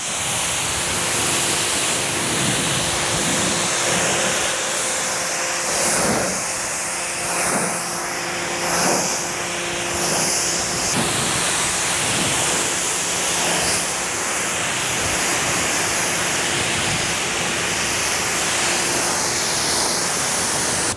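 A pressure washer fitted with a 40-degree tip rinses soap suds off a Toyota Tacoma pickup that carries a ceramic coating. The spray gives a steady, loud, broadband hiss that runs the whole time with small surges, and no one speaks over it.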